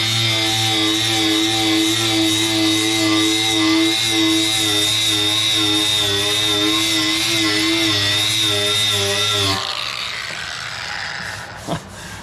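An angle grinder stripping paint from a part of a 1991 Craftsman LT4000 lawn tractor: a loud, high, steady whine running close for about ten seconds before cutting off, leaving quieter scraping and a sharp knock.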